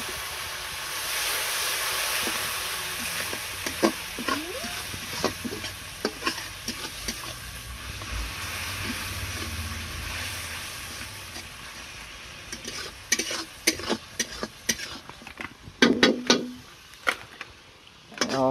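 Cumin seeds and ginger garlic paste frying in hot oil for a crab curry, giving a steady close sizzle with stirring scrapes and clatters that grow busier near the end.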